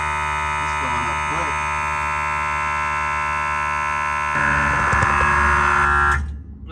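An air compressor fills a small tank for a train horn, a loud steady droning hum with a brief voice early on, rising in pitch and level near the end before cutting off abruptly.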